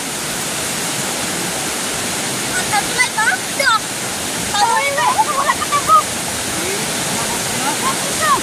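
Floodwater rushes in as a steady broadband roar, close and continuous, while several people shout excitedly over it.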